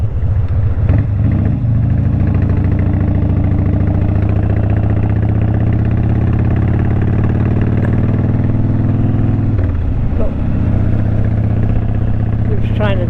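A Harley-Davidson Wide Glide motorcycle engine runs with a deep, steady, loud rumble throughout, idling close by, with a brief rev change near the end.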